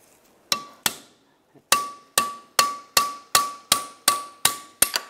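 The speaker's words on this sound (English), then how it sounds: "Now take a punch." Sharp metallic hammer strikes on a punch driving out a door hinge pin on a 2007-2013 Chevrolet Silverado 1500 ring out one after another, about ten blows in a steady rhythm after a short pause, each with a bright ringing tone.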